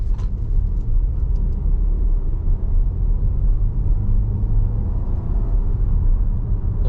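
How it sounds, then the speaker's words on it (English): A 2023 Audi Q5 45 Premium Plus accelerates at about half throttle, its turbocharged engine building as a steady, loud low rumble of road and engine noise that holds evenly throughout with no talking. "We'll give it one more half throttle."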